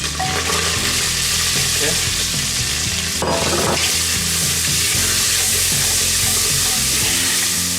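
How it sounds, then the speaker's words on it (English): Onions fry in a pan of hot oil for dal tadka, giving a steady, loud sizzle throughout, with a brief burst of extra noise partway through; someone speaks over the frying. "fry the onion for a couple of minutes until the color changes"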